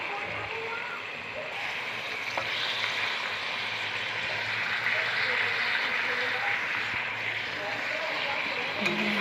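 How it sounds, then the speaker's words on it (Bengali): Meat frying in hot oil makes a steady, moderately loud sizzling hiss that carries on without break, with a faint low hum underneath. "মাংসটাকে দিয়ে ভালো করে কষাবো।"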